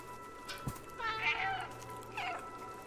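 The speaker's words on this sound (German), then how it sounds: "Ich kann miezen." A cat character in the video game Stray gives two distinct meows, the first drawn out and the second shorter, clear over a quiet game background with a soft thump before them.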